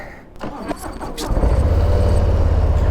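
A 2022 Harley-Davidson Low Rider S motorcycle cranks with a few clicks and whirs, then catches into a deep, loud, steady rumbling idle close by.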